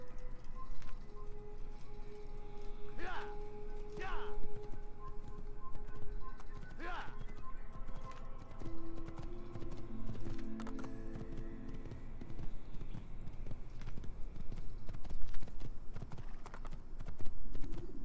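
Horse hooves clip-clop at a steady walking pace in the Assassin's Creed video game, fairly quiet beneath ambient game sounds and music, with a few sharper knocks standing out.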